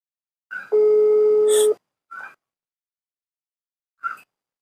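A steady telephone dial tone lasting about a second, framed by short electronic beeps from a phone call, loud and close with no voices.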